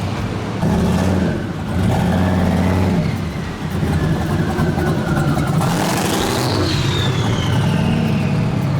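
A car driving a lap through the streets at a cruise night in Festus, its engine droning and revving with rising and falling pitch, heard loud and continuous from close by.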